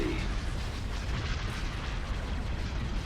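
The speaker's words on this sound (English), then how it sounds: "We're opening fire on the enemy." Weapons fire and explosions from a Forces of Corruption battle, with the Zann Consortium on hard conquest, form a loud, dense, continuous roar of blasts and booming impacts with no breaks.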